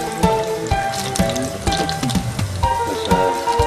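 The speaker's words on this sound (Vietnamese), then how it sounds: "This is banana fry." Banana fritters sizzle and crackle steadily in hot oil in a pan, a close, continuous frying sound with small pops and no talking.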